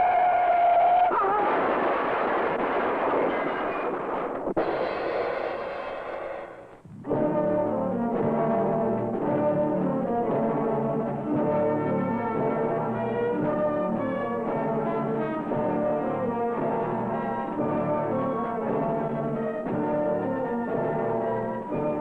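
A car crash from an old 16mm safety film: a loud, dense burst of impact noise runs for about seven seconds, then a sustained, tonal musical passage continues steadily to the end with no speech.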